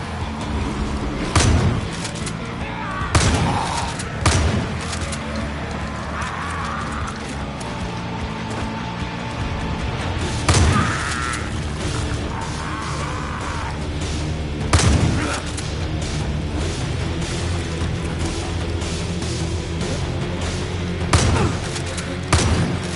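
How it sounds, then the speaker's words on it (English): Far Cry 5 zombie DLC combat brings repeated booming explosions and bursts of gunfire every few seconds over a constant loud rumble of battle noise. "Explosion here, explosion there!"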